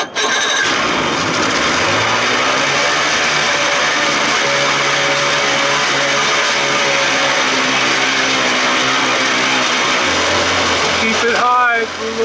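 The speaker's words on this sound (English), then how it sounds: "She's idling, but she's not warmed up." A 1979 Evinrude 55 hp outboard motor with issues runs loud and steady after starting, idling fast while still cold, its pitch shifting slightly with the throttle and choke before cutting off near the end.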